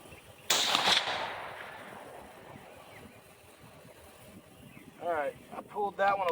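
A rifle shot fired at a target cracks out once, loud and sharp, then fades into a long rumbling decay over open ambient noise. A voice speaks briefly near the end.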